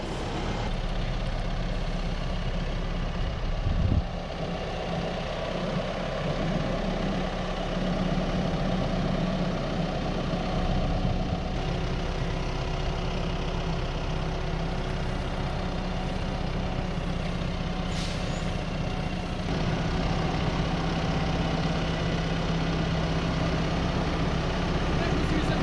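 Large construction machinery idles with a steady, low diesel rumble through the whole stretch at a family timber-frame roof raising, with occasional bumps and people talking faintly nearby.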